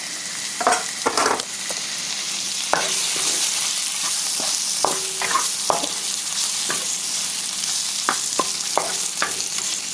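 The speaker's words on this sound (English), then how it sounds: "let's throw our shrimp in there." Shrimp sizzling in a hot pan with garlic and shallots for Vietnamese crispy chow mein, a loud continuous hiss broken by frequent scraping and clanking of a utensil stirring close by, with no talking.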